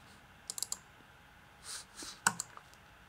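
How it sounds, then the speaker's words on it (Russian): Computer mouse double-click opening a file, a quick pair of faint clicks followed by a few more soft clicks and light keyboard-like taps in a quiet room. "Откроем его двойным щелчком мыши."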